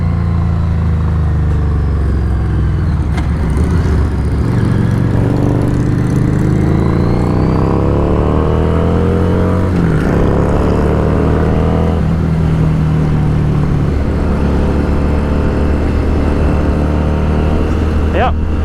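Harley-Davidson Street 500 cruiser motorcycle (2017) with its engine pulling steadily as the bike accelerates on the road, a continuous rising drone with wind noise, while a rider talks over it.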